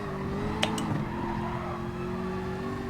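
In a sim racing game, a racing car's engine holds a steady tone as it brakes into a corner, with a couple of sharp ticks early on and faint knocks underneath, fairly quiet throughout.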